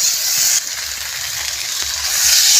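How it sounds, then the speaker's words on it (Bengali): Pointed gourd curry with turmeric, slit green chillies and mustard paste sizzles loudly and steadily in a pan as it is stir-fried, a close, continuous hiss with faint stirring scrapes. "আর একটু কষিয়ে নেব।"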